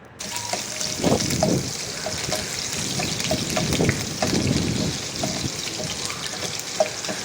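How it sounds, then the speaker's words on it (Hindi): Garlic and ginger fry in hot oil for a mince dish, giving a steady close hiss and crackle that runs throughout with no voices. "ये लहसुन अदरक मैंने डाल दिया और इसको थोड़ा सा फ्राई करेंगे।"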